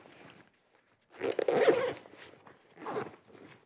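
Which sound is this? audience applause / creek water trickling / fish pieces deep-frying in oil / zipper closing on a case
zipper closing on a case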